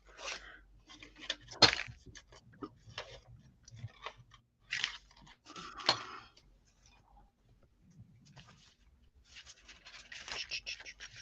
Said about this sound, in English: I'm just going to cut out some circly type things here.